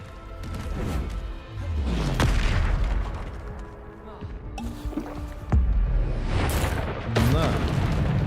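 Bombarda spell blasts in the video game Hogwarts Legacy, loud booming bursts amid dense game combat noise, with a sharp crash near the middle and another past seven seconds.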